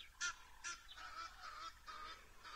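Egyptian geese honk loudly in two sharp calls near the start, then keep up a softer, continuous gabble of calls in the background.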